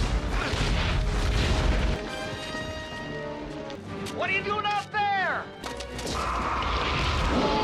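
Bombs going off in a 1990s creature monster movie, a loud smashing, booming crash up front followed by rumbling debris, with music and shrieking tones mixed in.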